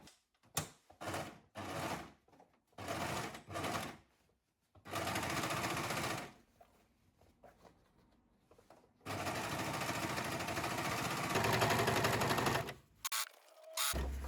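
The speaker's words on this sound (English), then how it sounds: "This is what an overlocker does." An overlocker stitches and trims fabric seams, running in loud, close bursts: several short rapid stops and starts, then longer runs of steady whirring stitching, with brief pauses between them.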